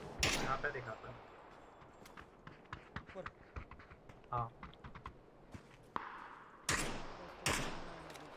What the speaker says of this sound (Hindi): इधर से भी शॉट चला है